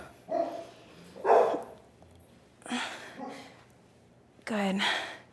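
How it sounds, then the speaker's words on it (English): Several dogs bark in short separated bursts, four loud yelps and barks spaced across a few seconds, fairly close, with no talk between them. "My dogs love to bark at the trash trucks."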